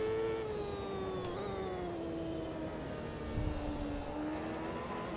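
Race car engine in the Automobilista 2 sim racing game at Road America, holding a steady high drone whose pitch slowly sinks and then edges back up, loud and continuous with no talking.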